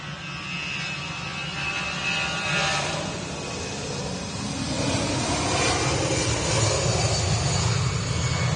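An easyJet Airbus A319 departs Manchester Airport for Bilbao, its engines a steady broadband roar that swells slightly over several seconds, with a faint high whine running through the noise.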